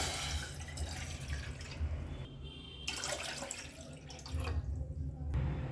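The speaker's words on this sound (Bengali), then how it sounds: "2 বাটি পরিমাণে জল দেব।" Water runs and splashes into a cooking pot on a stove, a steady faint pouring noise with small changes in flow, heard up close and quiet.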